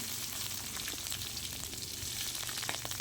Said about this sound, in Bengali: তেল গরম হয়ে গেছে, দিয়ে দিলাম শুকনো লঙ্কা, 5 ফোড়ন, তেজপাতা, কাঁচা লঙ্কা